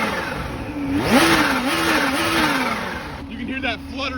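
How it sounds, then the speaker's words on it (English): A supercharged 2021 Kawasaki Z H2 motorcycle engine revs up and settles, its pitch sweeping upward then holding a steady fluttering drone, with a second quick rev near the end, loud and close. "You can hear that fluttering of the engine."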